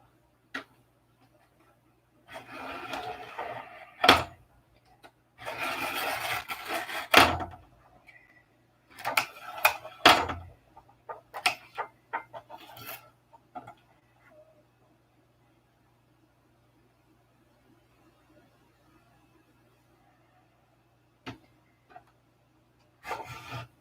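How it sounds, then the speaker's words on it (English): X-Acto knife scoring and cutting plywood strips by hand, with close, dry scraping strokes in irregular bursts, some long drags and sharp short scratches, separated by quiet pauses. "Cutting plywood really dulls the old X-Acto knife quick."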